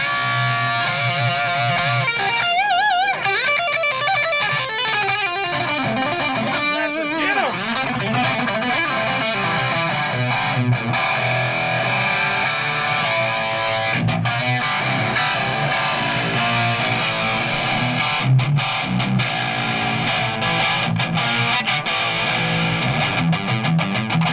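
Distorted electric guitar from a Schecter played through a high-gain amplifier, heavy rock and metal riffing with sustained chords and fast note runs, loud and continuous throughout with no talking.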